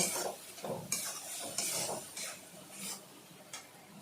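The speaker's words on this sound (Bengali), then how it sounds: "পেস্ট করা মশলা, মশলাগুলো হালকা কষিয়ে নেব" Ground spice paste fries gently in a pan for a Bengali ghugni, with soft sizzling and a regular series of spoon scrapes and stirs, close and fairly quiet.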